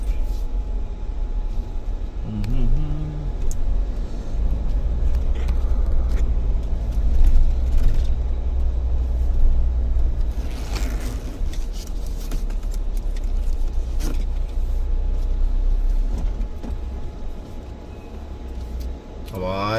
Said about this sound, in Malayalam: വണ്ടി ഇറങ്ങി വരുന്നുണ്ട്. വണ്ടി മേലോട്ട് കയറുന്നു മനസ്സിലായി.